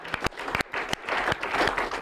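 Audience clapping on a Nigerian studio program, a steady patter of hand claps with several sharp close claps standing out over the continuous crowd applause.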